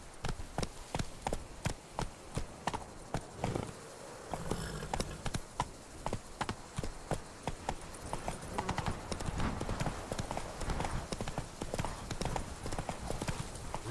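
Roach the horse gallops in The Witcher 3, its hooves striking in a steady, rapid clip-clop rhythm that runs for the whole stretch at moderate loudness, with a brief lull near the four-second mark.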